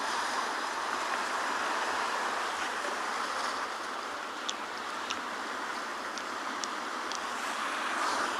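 Steady ocean surf washes continuously along a penguin beach, a broad even roar with faint ticking sounds scattered through it and no talking.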